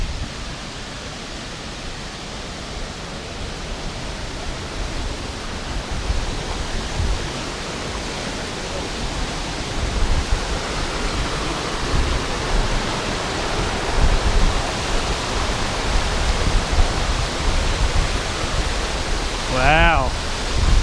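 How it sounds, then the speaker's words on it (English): Steady, broadband rushing of St. Mary Falls in Glacier National Park, loud and continuous throughout, with a faint voice briefly audible near the end. "Maybe even Andy will appreciate this waterfall."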